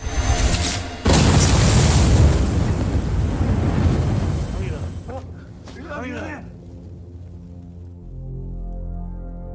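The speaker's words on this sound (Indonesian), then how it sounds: "Lalu di tengah kekacauan, bomnya tiba-tiba aktif dan..." A sudden loud explosion booms, followed by a long roaring rumble that slowly fades, with voices shouting near the end.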